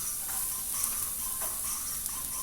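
Onions hit a hot pan for pancit canton with noodles already cooking, giving a steady bright sizzle with faint stirring scrapes, close and continuous with no talk.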